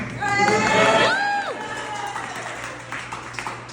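A crowd at a Brunswick Bierworks gathering cheers and whoops loudly at first, the shouts peaking in the opening second and a half before settling into scattered clapping and murmuring voices.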